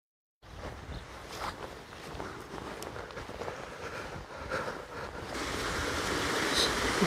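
Steady broadband rush of the River Barle flowing at Withypool, Somerset, close by and continuous, swelling louder toward the end with faint footsteps on the path beneath it.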